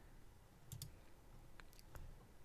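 Two or three soft, faint computer mouse clicks sound in a crypto exchange wallet, spaced apart over a low background hum.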